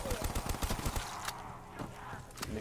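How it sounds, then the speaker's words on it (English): Rapid bursts of gunfire aimed at zombies in Black Ops 3's Kino der Toten map, a dense rattling string of shots over game noise and music, then quieter ambience with a few scattered shots. "I'm gonna go ahead and turn around and shoot."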